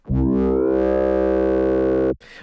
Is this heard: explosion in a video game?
no